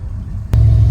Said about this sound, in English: Now I'm gonna go run the truck again, make sure it's all good